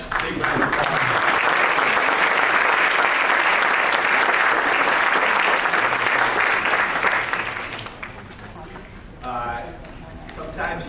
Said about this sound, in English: So let's give us a big round of applause